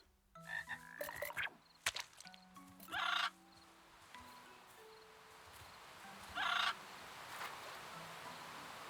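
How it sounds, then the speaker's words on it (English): A one-eyed frog croaking in the Little Witch in the Woods video game: two short, loud, raspy croaks spaced a few seconds apart over soft game music and ambient background. "One-eyed frog. They're known for having only a single eye."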